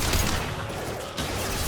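Gunfire in the video game Mass Effect 2, a dense rattling fusillade of overlapping shots at moderate level, continuous through the short span with no talk.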